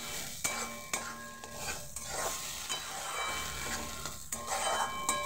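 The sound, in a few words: stir-frying bean (sim) mash in a pan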